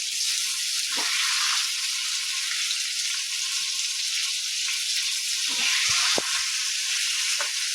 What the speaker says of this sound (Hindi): आब वही तेल में आलू सेहो दऽ कऽ भूज लै छी।